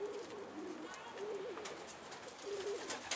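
Pigeons coo in soft, repeated throaty phrases at moderate distance, with faint background rustle and no talk.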